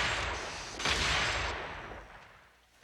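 Gunfire from a six-shooter during a Back to the Future Part III street scene: a sharp burst near the start, then a broad, loud crack that decays into rumbling echo, with no voices.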